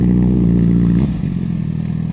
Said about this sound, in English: But oh, nice motorcycle. That's a Honda Fireblade.